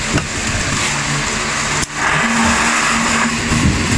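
An Asahi stand fan running at speed 2 gives a continuous, loud whirring hum with a wobbling rattle from an unsteady base, and one sharp knock partway through.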